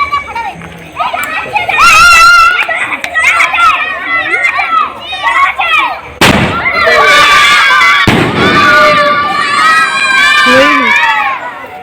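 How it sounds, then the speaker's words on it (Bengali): Fireworks and firecrackers exploding at a wedding reception outdoors on a street, sharp loud bangs amid a noisy crowd of shouting children and chatter. "চলো এখন চলো বাজি ফুটানোর কিছু দেখে নাও"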